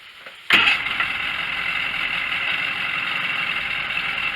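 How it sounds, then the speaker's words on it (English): A Mercury 50 HP two-stroke outboard motor catches abruptly after a quiet moment, then settles into a steady, close, buzzing idle that runs evenly to the end. "It's always been a good running motor."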